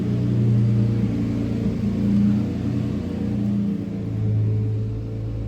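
A car fitted with a Gitani exhaust idles shortly after a warm restart, a steady low rumble with gentle swells in loudness, heard close with no talking.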